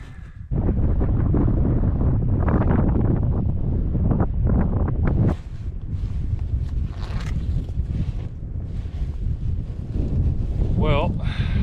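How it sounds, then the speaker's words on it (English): Strong gale buffeting a campsite with loud, continuous roaring wind noise hitting the microphone, steady throughout with a brief drop midway. "Well, the wind is still blowing a gale."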